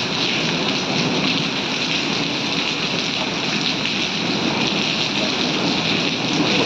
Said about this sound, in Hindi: देखो भाइयों ओले पड़ गए,